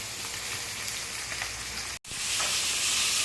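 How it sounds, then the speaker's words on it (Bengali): Food frying crisply in a pan in a kitchen on an island: a dense, continuous sizzle with a brief cut partway through, then slightly louder, with no talk. "এই যে এখনও ভাজাভাজি চলছে"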